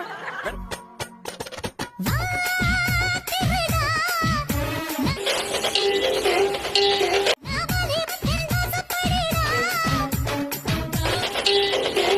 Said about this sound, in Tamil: பூனா மீசையில்லா பூனா